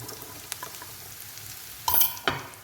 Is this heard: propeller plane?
no